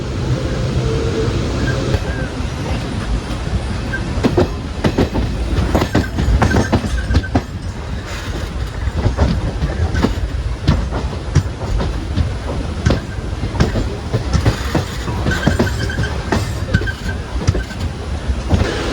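The Kozhikode Jan Shatabdi, a high-priority express train, runs loudly nearby with rattling wheels, rhythmic clickety-clack over rail joints and occasional metallic squeals throughout.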